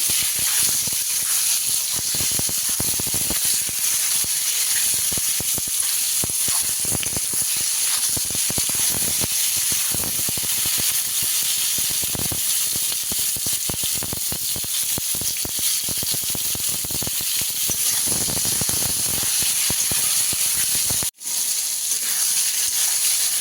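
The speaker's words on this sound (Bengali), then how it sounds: "ঝিঙের সাথে আলুটা ভালো করে নাড়াচাড়া করে নেবো।" Ridge gourd and potato stir-fry in a pan with a steady, loud hissing sizzle that runs almost unbroken throughout, with faint stirring scrapes and one brief dropout near the end.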